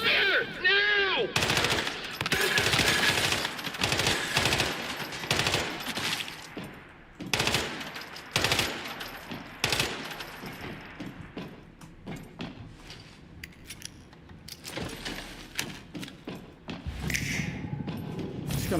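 Gunfire in the video game Once Human, bursts of rapid machine-gun shots and thuds rattling through a fight for most of the stretch, loud and close, with brief gaps and a few voice sounds between volleys.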